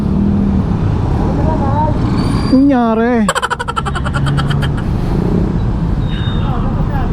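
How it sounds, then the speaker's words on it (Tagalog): A motorcycle moves through heavy road traffic, with a steady roar of engines and roadway noise throughout, a brief warbling horn-like tone partway, and someone talking over it. "Grabe traffic oh."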